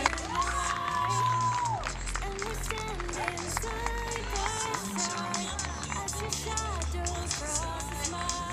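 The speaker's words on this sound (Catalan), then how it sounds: "Vatos, anem a aplaudir." An audience claps and cheers steadily at a vocational school graduation ceremony, a dense continuous wash of applause with crowd noise and voices mixed in throughout.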